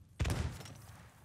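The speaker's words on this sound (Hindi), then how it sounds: "गोली चली।" Single loud gunshot fired in the pirate video game Sea of Thieves, a sharp close blast with a booming low tail that fades over about a second, no talk.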